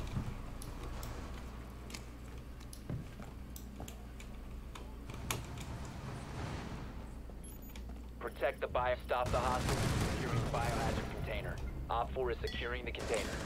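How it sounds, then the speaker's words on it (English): Gunfire from Rainbow Six Siege sounds faintly in the distance as scattered muffled shots under keyboard typing, with a person talking over parts of it. "I hear gunshots, but I can't trace them."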